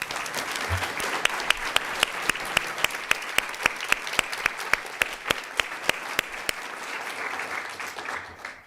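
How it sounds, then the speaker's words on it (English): A crowd at a law lecture honoring a professor's appointment breaks into sustained applause, broad clapping with sharp individual claps standing out in a regular beat before it tapers off. "Applause is appropriate."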